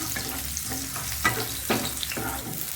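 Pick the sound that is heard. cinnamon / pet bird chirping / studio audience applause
cinnamon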